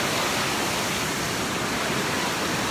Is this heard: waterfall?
yes